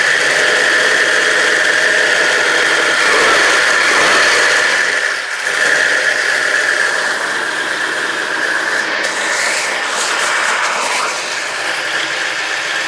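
A cold 1969 Plymouth Barracuda notchback coupe engine with headers and exhaust idles steadily with a low exhaust rumble and a high, persistent whine, close by, with no talking.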